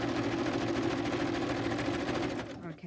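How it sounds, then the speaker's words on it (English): A sewing machine stitches through paper scraps in a fast, even mechanical whir with a rapid ticking rhythm, close and loud, stopping abruptly near the end. "Helps to turn your sewing machine on."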